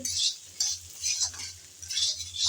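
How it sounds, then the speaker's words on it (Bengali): Pointed gourd and potato curry is stirred and fried in a pan. Soft scraping strokes repeat in a steady rhythm over a faint sizzle, close and fairly quiet. "ঢাকনা উল্টিয়ে একটু নেড়ে চেড়ে ভেজে নেব বলে"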